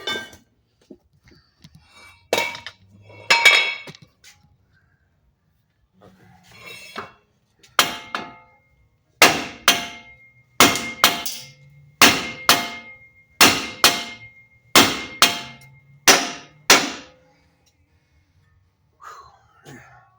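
Metal hammer blows strike a stuck suspension part on a 2008 Chevy Silverado during a lowering kit job, a few scattered hits early, then a steady run of about ten loud, evenly spaced clanging whacks before it goes quiet.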